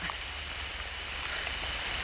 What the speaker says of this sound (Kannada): ಮಳೆನಲ್ಲಿ ಒಂದು ಫಾರೆಸ್ಟ್ನಲ್ಲಿದ್ದೀನಿ ಮಳೆ ಬರ್ತಾ ಇದೆ